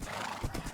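A horse in a video game clip-clops along while a whinny cuts through, short and fairly close, with the hoof beats steady underneath.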